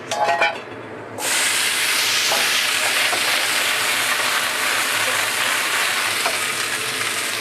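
Diced pork with celery and dried radish hits a hot wok, bursting from quiet into a loud, sustained roaring sizzle and hiss that continues steadily to the end, with faint tossing clatter.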